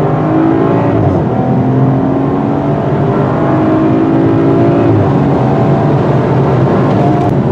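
Turbocharged six-cylinder engine of a BMW X4 M40i SUV pulling hard under acceleration, a steady loud drone heard from inside the cabin with road noise and no talking.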